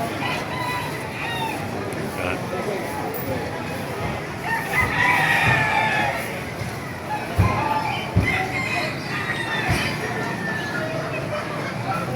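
Roosters crow and chickens cluck amid a noisy, crowded outdoor market in Calumpit, Bulacan, with people talking and steady rain hiss throughout.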